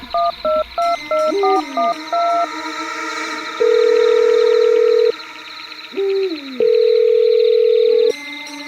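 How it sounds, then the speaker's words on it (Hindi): Telephone call tones: a rapid series of short dial beeps, then two long steady ringback tones with a brief gap between them, loud, close and electronic, with no talk. "दो रिंग के बाद ही सीमा ने फोन उठा लिया"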